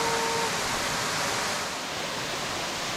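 A waterfall in St. Vincent roars as a steady, dense rush of falling water, loud and unbroken throughout with no voices.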